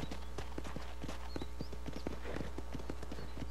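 A horse gallops in Red Dead Redemption, a steady rapid clip-clop of hooves over a constant low rumble, with faint whistling birds in the background.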